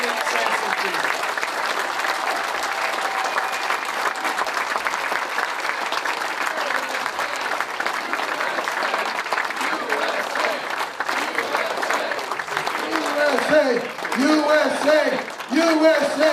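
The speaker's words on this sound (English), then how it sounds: "let's give a big round of applause to Lieutenant Sampson Friedman." Sustained applause from a large crowd at an award ceremony for a World War II veteran, dense and steady throughout, with voices rising and chanting "USA" near the end.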